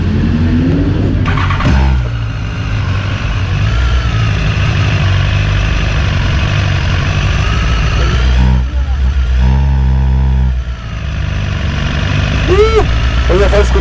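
A BMW S1000RR sport motorcycle engine idles with a steady, loud drone, with brief revs near two seconds and again around eight to eleven seconds. A voice speaks at times over the engine.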